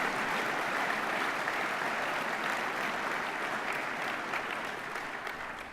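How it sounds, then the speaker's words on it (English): An audience at a farewell speech breaks into sustained applause, a dense, even wash of many hands clapping that tapers off slightly toward the end, with no clear talking over it. "Yes, cheer for that one."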